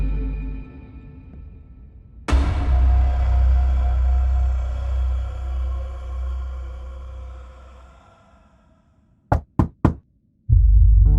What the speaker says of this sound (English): She woke up to a knock on her door.